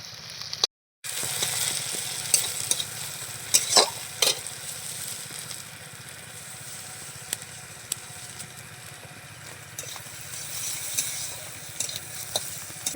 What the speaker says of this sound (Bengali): ঘিটা দিয়ে দিলাম। এবার একটু নাড়াচাড়া করে নিচ্ছি যাতে